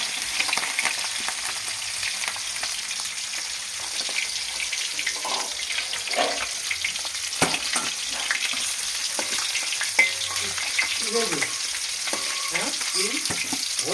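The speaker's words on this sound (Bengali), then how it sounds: "আর এইখানটায় হচ্ছে মাছ ভাজা" Fish fries in a hot pan in a home kitchen, a steady close sizzle and crackle running throughout, with occasional clinks and stirring scrapes.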